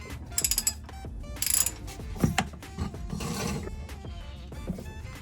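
A torque wrench ratchets and clicks while transmission bolts are tightened on a rebuilt Toyota Tundra, short bursts of rapid clicking and mechanical rattles close by, with no talk.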